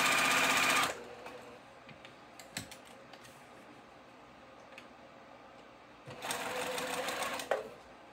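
Sewing machine stitching a cow print ribbon tutu, with a loud steady run of stitching at the start, a quiet stretch of faint clicks and handling, then another burst of close stitching near the end.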